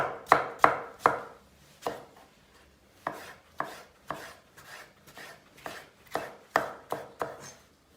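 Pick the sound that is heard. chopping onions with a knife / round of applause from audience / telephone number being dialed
chopping onions with a knife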